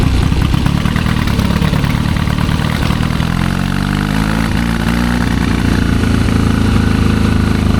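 A 1972 Triumph 650 Bonneville motorcycle engine runs steadily and loud, a low rumbling idle with a constant throb that rises slightly in pitch partway through, with no voices over it.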